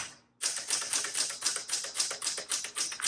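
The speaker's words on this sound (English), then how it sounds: "I really like the Classic 12 manual typewriters." Rapid, steady keystrokes clack from a 1976 Classic 12 manual typewriter, close and crisp, starting after a brief pause and continuing in an even rhythm without any voices.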